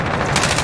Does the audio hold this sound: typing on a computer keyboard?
no